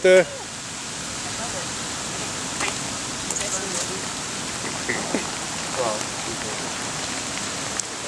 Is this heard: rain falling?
yes